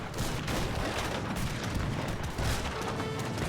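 Gunfire and culverin cannon shots fill a real-time strategy game battle, a dense, continuous barrage of overlapping shots and booms with no clear pauses.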